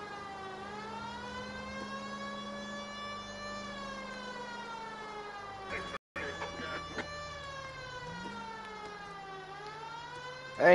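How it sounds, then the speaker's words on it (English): A police car siren in the video game L.A. Noire wails continuously in a steady rising and falling tone, loud and close, with a brief cut partway through and a sharp noise at the very end. "This siren sounds weird."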